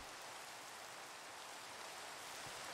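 Steady Minecraft rain hisses evenly and continuously, soft but constant, with no voices.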